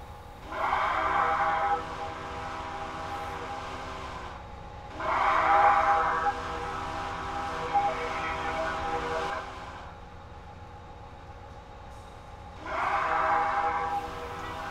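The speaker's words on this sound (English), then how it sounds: "Whistle horn combo." A Southern Pacific GS-4 steam locomotive in Train Simulator 2017 sounds a whistle-and-horn combo: three loud, sustained chime blasts of a few seconds each, separated by quieter gaps.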